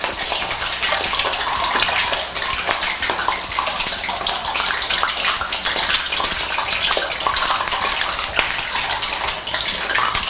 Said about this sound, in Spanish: Y vamos a freír.